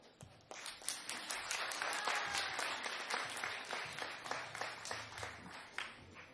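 A concert crowd at a show in Pernik claps for a dance group at the back of the hall. The applause is close and full, swelling after a short start, then thinning into scattered claps near the end.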